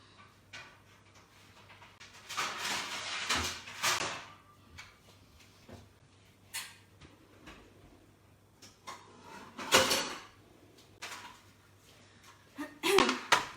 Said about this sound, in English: I'm just going to grab my trays.